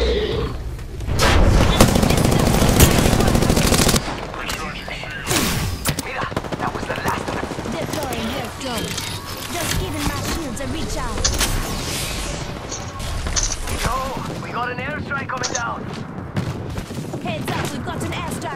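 Dense video game gunfire, sustained automatic bursts and single shots, loud and close at first and then mixed with other battle noise as players talk over it.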